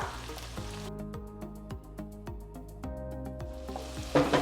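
Capsicum and spring onion sizzle and crackle in a hot pan during stir-frying for chicken Manchurian, with rhythmic stirring scrapes repeating through the steady frying hiss, close and alone.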